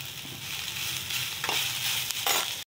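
Cooked leftover rice being stirred into sautéed curry leaves in a hot pan, a steady close sizzle with scraping spatula strokes sounding near the middle and end, no talking.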